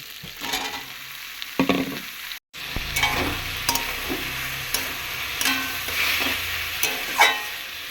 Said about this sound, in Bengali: এবারে এতে দিয়ে দেব কেটে রাখা লাউ।